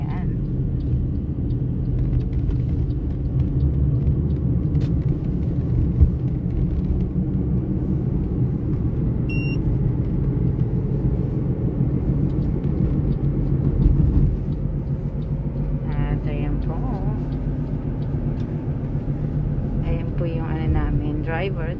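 Low road rumble and engine hum fill the cabin of an Uber car driving through Taipei toward Taipei 101, steady throughout with brief higher-pitched sounds near the end.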